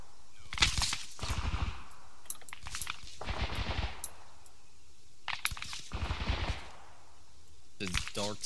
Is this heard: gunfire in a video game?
yes